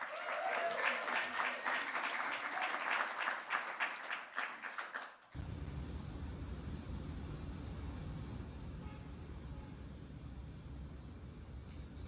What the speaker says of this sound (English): please give another special round of applause for them for taking part this year